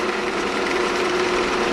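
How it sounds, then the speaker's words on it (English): A drill press bores into a piece of wood, giving a steady high-pitched whine with a sustained tone, close and continuous. "I'm going to start my drilling."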